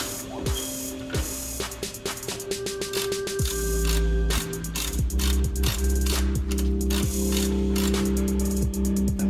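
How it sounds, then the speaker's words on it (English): A ratchet running down bolts on a BMW E70 X5 front wheel bearing, giving rapid clicking pawl bursts and metallic rattles in close succession, loud and near, with no talking. "So I'll run that down via ratchet to pull things in"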